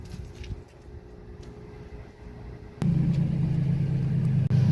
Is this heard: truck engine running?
yes